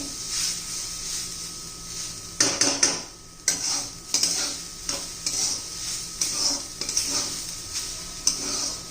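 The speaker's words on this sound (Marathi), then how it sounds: "छान असं भाजून घ्यायचं आपल्याला हे खोबरं" Grated fresh coconut dry-roasting in a pan over a medium gas flame, stirred with a spatula that scrapes and clatters against the metal in uneven bursts over a steady soft hiss, close by with no talking.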